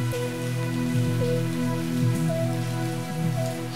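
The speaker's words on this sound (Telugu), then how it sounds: "రాజయ్య ఆ అర్ధరాత్రి ఆ భారీ వర్షంలో ఆశ్రమానికి చేరుకుంటాడు." Heavy rain pours down at night in a steady, dense hiss that fills the whole span, with tonal music running beneath it and no voices.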